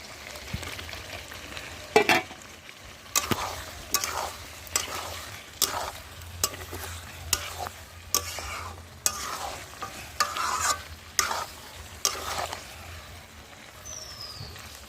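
Chicken and potatoes frying in a pan for chicken kosha are stirred in regular strokes. Each pass of the spoon makes a scraping sound over a faint, continuous sizzle, and no one talks.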